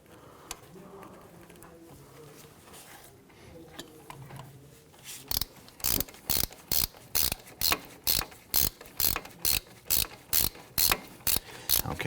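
Ratchet with an extension turning wheel hub bolts on a Hyundai Elantra, quiet shop handling at first, then a steady run of sharp, close clicking bursts repeating evenly.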